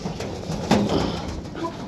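A pigeon coos once or twice close by at a loft where flying pigeons are kept, brief and fairly loud, with no voice over it.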